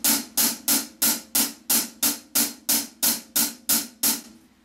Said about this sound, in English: the basic hi-hat groove, the rhythm, is just simple 8th notes